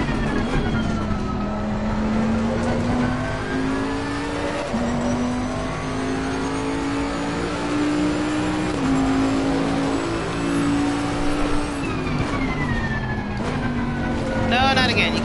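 Race car engine held at full throttle around the Misano circuit, a loud, sustained high drone that rises slowly in pitch, dips briefly at gear changes and climbs again, close and continuous.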